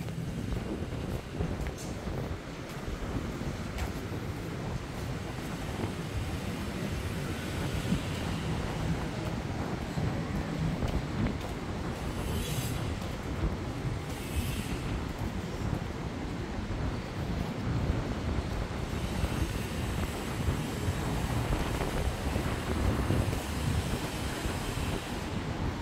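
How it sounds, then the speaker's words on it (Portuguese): Strong wind roars across a deserted beach in the rain at Itapema, Santa Catarina, a continuous loud broadband rush mixed with surf, buffeting the microphone steadily for the whole stretch with no voices. "Vento forte."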